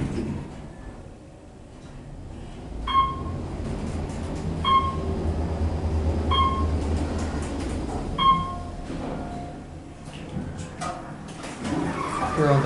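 A fast Otis Series 4 traction elevator at Disney's Animal Kingdom Lodge travels upward with a steady low mechanical rumble, while periodic chime-like tones sound above it at regular intervals.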